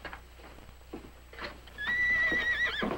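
A horse whinnies loudly and shrilly near the end, preceded by scattered hoof clops and scuffs on the ground, with no speech.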